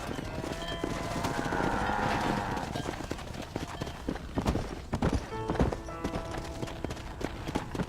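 Horse hooves clip-clopping in the Western video game Red Dead Redemption, a steady run of close hoofbeats on ranch ground, mixed with game ambience and a few sharper knocks.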